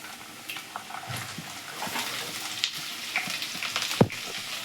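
Finely chopped onion frying in a pan with browned ginger and garlic for beef macaroni, a steady close sizzle broken by scattered spatula scrapes and one sharp knock near the end; no voices.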